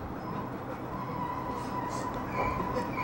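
A train slows to a stop on a single-track line in Japan, rolling with a low rumble and faint squealing tones from the wheels, steady and moderately loud.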